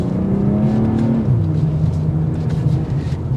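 A 2024 BMW M340i accelerating, its exhaust giving a loud, close engine note that climbs, drops as the gear changes, then carries on as a steady drone.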